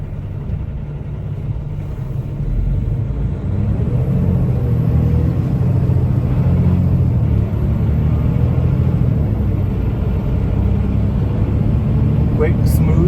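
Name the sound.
Peterbilt 567 dump truck driving, Allison 4500 series transmission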